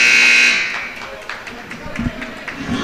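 A basketball game-clock buzzer sounds loud and steady at the end of a period in a boys' game between Vienna and Zeigler-Royalton. It cuts off after about half a second, leaving gym noise and a commentator talking.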